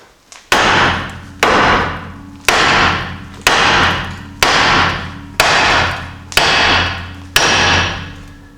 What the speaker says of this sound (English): take your biggest sledgehammer and hit right on the knuckle